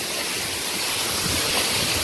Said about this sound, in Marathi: या साईडून पण येतोय पाणी